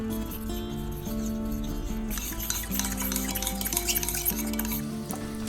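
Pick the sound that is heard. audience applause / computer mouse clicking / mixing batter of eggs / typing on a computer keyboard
mixing batter of eggs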